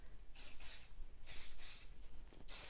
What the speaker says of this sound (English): Spray shine to finish.